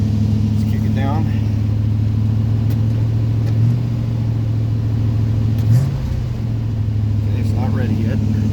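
A 1978 Chevrolet 4x4 truck engine revs and accelerates up close, a steady loud rumble with a couple of rising pulls, and a voice speaks briefly over it.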